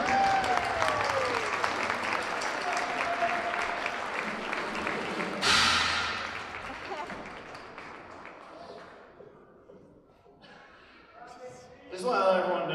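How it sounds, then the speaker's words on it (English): An audience applauds at a high school Christmas concert, with a dense wash of clapping that swells, fades into a quieter pause, then rises briefly again, with a voice speaking at one point. "And now we'll clap for it."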